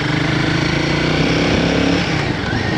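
Royal Enfield Guerrilla 450 motorcycle being ridden on a rough road, its engine droning loud and close with steady wind roar and a slight drop in revs near the end.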